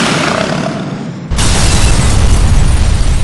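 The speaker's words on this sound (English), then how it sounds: "Let's give them 8 kinds of hell, Butch! Fire it all!" Weapons fire causing an explosion in the GTA IV video game: a sustained, loud, noisy rumble that suddenly surges into a deeper, heavier roar and holds at full force to the end.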